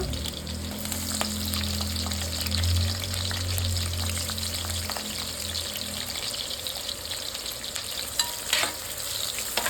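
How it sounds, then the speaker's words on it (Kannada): Onions and green chillies fry in hot oil for a restaurant-style chicken pepper fry, giving a steady, loud sizzle with a few stirring scrapes. No one speaks. "ಇವಾಗ ಕಟ್ ಮಾಡಿಟ್ಕೊಂಡ್ರೆ ಈರುಳ್ಳಿ ಹಾಕೊಳ್ಳೋಣ."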